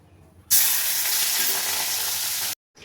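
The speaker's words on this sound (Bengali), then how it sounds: "চিংড়ি মাছটা ভাজা হয়ে গেছে" Prawns dropped into hot white oil burst into a loud, bright sizzle that holds steady for about two seconds, then stops abruptly.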